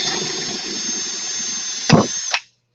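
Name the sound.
power drill drilling holes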